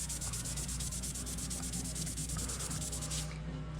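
Close, continuous dry rubbing of foam-backed 800 grit sandpaper across a metal engine part, a soft, even hiss with a faint rhythmic back-and-forth pulse.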